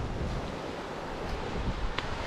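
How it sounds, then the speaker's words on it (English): Ocean waves wash onto a shore in a steady, broad roar, with gusts of wind buffeting the microphone and no one talking. "I know y'all hear the waves."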